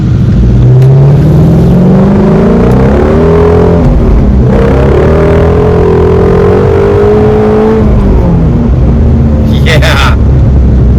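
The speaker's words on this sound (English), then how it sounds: "Okay, so driving the GT350." A Ford GT350 with a flat-plane-crank V8 revs hard while driving, pulling to about 5,000 RPM. The engine note is loud and close, climbing steadily in pitch, easing off, then rising again in a continuous snarl.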